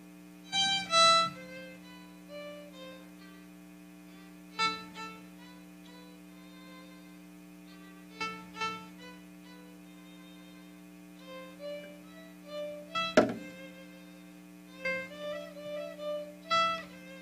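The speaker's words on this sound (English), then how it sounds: "One of the instruments is the violin." A violin from a string orchestra plays a handful of quiet, separate phrases with gaps between them, over a steady low hum.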